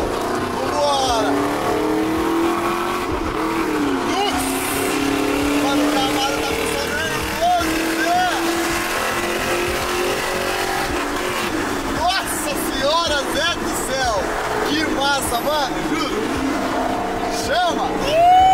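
A Chevrolet Camaro accelerates hard on a highway, heard from inside as a steady loud engine roar with rising revs and road noise, while people talk and shout excitedly over it.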